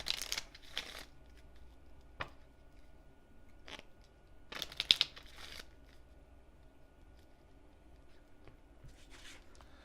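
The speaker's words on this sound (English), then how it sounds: "And then these are going to get shuffled." Someone shuffles a deck of game cards at a table: scattered, close riffling and crisp snapping bursts across about ten seconds, including one dense flurry of card flicks partway through, over faint room noise and with no talking.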